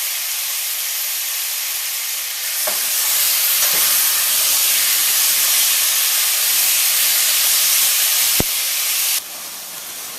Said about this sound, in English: it comes up to a sort of a boil in the pot there